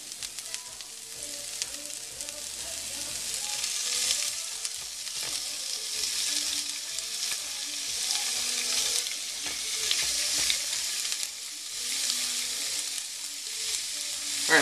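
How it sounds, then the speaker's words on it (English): Fajita ingredients sauté in a hot pan over medium-high heat, giving a steady, even sizzle and crackle that continues without pause, close and moderately loud. "I'm going to let that saute up here for a few minutes. I got that on a medium-high heat."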